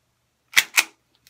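Two sharp BB gun shots strike an iPad in quick succession, each a crisp snapping crack about a fifth of a second apart, followed by a faint small tick.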